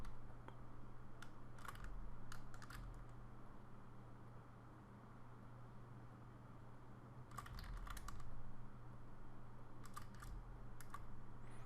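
Sharp computer clicks come in quick clusters against a low steady hum, quiet and close, while a user works in Maya unwrapping a face model.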